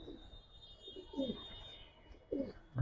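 A young Giribaz highflyer pigeon gives soft, low cooing calls in two or three short bursts, close and quiet, over a faint steady hum.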